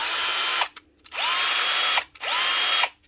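A Bosch GSB 12V-15 cordless 12-volt drill with a newly fitted motor whirs in three loud bursts of roughly half a second, a second, and a second, each spinning up to a steady high whine and stopping abruptly, with brief quiet between.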